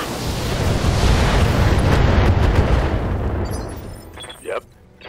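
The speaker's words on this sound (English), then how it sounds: "Firing everything I've got." Mechs in the BattleTech video game fire all their weapons at once, a dense, loud roar of overlapping blasts and booms that swells, holds for several seconds, then fades, with a short sharp burst near the end.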